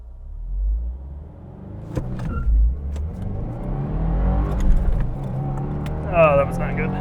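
A 2022 Subaru WRX base with a 6-speed manual launches hard with traction control off, its engine bogging, then revving steadily upward as the car accelerates, loud and close from inside the cabin.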